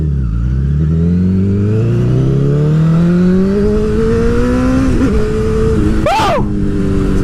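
Honda CBR1000RR sport bike engine revving hard and climbing steadily in pitch, loud and close, with a sharp throttle blip near the end.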